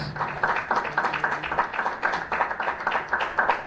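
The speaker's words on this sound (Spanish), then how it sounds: "Dale el aplauso" A church congregation applauds, a brief burst of clapping from a crowd in a hall, pulsing in a loose rhythm at moderate volume with no talk over it.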